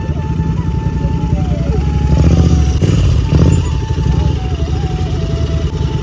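Motorcycles ridden off-road give a loud, steady engine rumble that swells in the middle of the clip. Revving tones rise and fall on top of it, and faint voices can be heard underneath.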